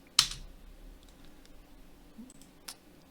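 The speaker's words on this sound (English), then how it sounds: "I'm just going to hit space." A computer keyboard's space key is pressed once with a sharp, fairly close click, followed by a few faint softer taps in an otherwise quiet room.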